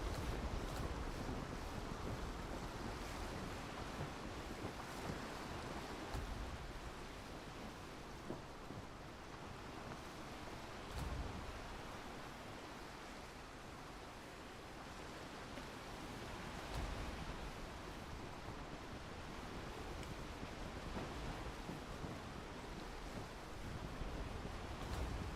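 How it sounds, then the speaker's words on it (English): Steady ocean surf and wind wash across the open sea while sailing in the Arcane Odyssey video game, a continuous broadband roar that swells and eases gently with no talking. "The open seas."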